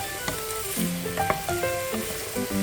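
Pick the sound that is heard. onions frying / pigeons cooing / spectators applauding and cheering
onions frying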